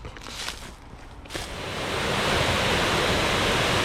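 Water rushing over a river spillway near Columbia, South Carolina: a loud, steady broadband roar that swells in after a brief quieter moment and then holds constant and close.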